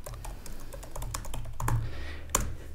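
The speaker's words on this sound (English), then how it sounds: "I'm going to type in 360 photo booth." Quick clicking keystrokes on a computer keyboard as a search is typed, an uneven run of close, light taps with no talk over them.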